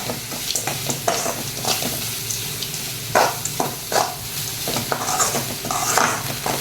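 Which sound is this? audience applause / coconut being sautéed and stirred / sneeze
coconut being sautéed and stirred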